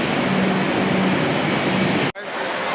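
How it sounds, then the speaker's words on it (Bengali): Steady loud rumble of a metro train at Dakshineswar station, cut off abruptly near the end. "ওই দেখো এমন আমার নিচে দক্ষিণেশ্বরে মেট্রো দাঁড়িয়ে আছে"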